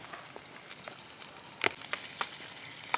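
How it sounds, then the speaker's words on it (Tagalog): White onions sautéing in cooking oil at a campsite, a soft steady sizzle with scattered sharp crackles and pops, close and fairly quiet. "Sibuyas natin white para matamis-tamis. Ganyan lang, gisa-gisa lang."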